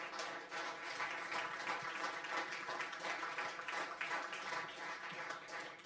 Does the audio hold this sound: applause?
yes